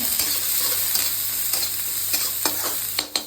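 Capsicum and onion for egg fried rice sizzle continuously in a hot pan, with repeated sharp scrapes and tosses of stirring at irregular intervals.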